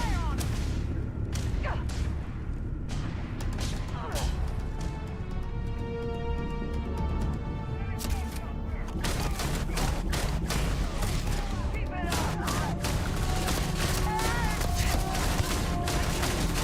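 Enemy gunfire in the video game Starfield, rapid volleys of shots and booms crackling densely throughout, with a brief calmer stretch in the middle before bursts resume, mixed with game music and mechanical sounds.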